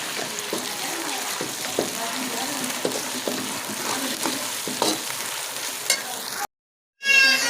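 Fried onions sizzle in a pan as a garlic, ginger and green chili paste is stirred in. A spoon scrapes and clinks repeatedly over a constant close frying hiss, and a short burst of noise follows near the end.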